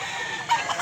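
Chickens and roosters at a rural market in Mantalungon, Cebu give brief clucks and a short crowing call over steady background noise, close by.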